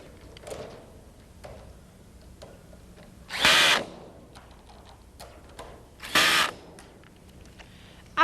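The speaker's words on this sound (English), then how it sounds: "fasten them securely using a cordless power drill with a Phillips head" A cordless power drill with a Phillips head drives bolts on an above-ground pool in two short, loud whirring bursts a few seconds apart, with faint handling noise and quiet gaps between them.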